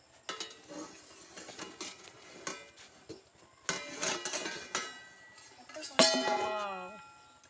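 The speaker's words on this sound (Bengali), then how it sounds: "ঢাকনাটা খুলে দেখব কেমন হয়েছে কতদূর হয়েছে" A lid is lifted off a pot of cake being steamed over low heat, giving a few clanking metallic knocks and scrapes close by, with a sharper ringing clatter near the end.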